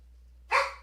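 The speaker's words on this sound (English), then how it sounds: "she's laying on the couch, barking at my door" A pet dog named Shyla gives a single loud bark at the front door from the couch indoors, a sharp burst after near-silence with a steady low hum underneath.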